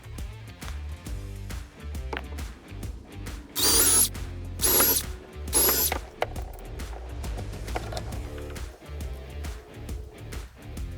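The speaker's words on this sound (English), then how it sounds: "we're going to drill a hole in the top of each star and 3 in the bottom of our moon" A power drill bores holes into small wooden star and moon pieces, three loud whining bursts of drilling over a steady background of music.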